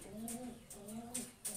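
Racing pigeons coo softly at a moderate distance: repeated low, rounded calls separated by short pauses, with faint higher chirps between them.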